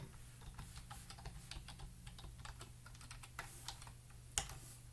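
Quiet, irregular tapping on a computer keyboard as a Git username and password are typed in, with one sharper keystroke near the end and no voices.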